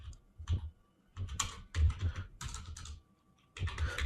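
Fingers type on a computer keyboard nearby in irregular bursts of soft clicking keystrokes with short pauses between, fairly quiet and with no speech.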